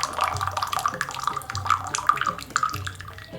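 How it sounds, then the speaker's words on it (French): Water poured from one glass into another while preparing Moroccan mint tea, a steady splashing trickle with small drips, close and fairly quiet, with no talking. "je vais tout de suite verser cette quantité d'eau, comme je viens de l'expliquer, dans un autre verre"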